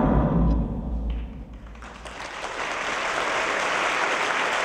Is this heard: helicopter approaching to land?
no